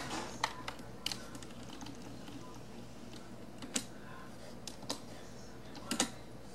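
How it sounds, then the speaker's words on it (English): Keys on a PC keyboard tapped in a few sparse clicks while entering an ADB command to reset an EZ Tab BH 5128 Android tablet, quiet and close with a steady background hum. "basically we're gonna type ADB reboot"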